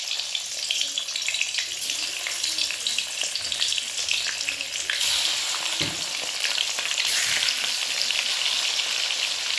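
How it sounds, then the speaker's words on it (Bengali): Catla fish pieces frying in hot mustard oil in a kadai, a loud, dense, continuous crackling sizzle close by, with occasional spatter bursts and a soft utensil knock. "তেল গরম হলে এর মধ্যে মাছগুলো দিয়ে লাল লাল করে ভেজে নেব।"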